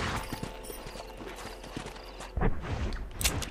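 Horse hooves clip-clop in the Red Dead Redemption video game, a steady rhythmic patter of footfalls at moderate distance with a louder burst of clattering near the end.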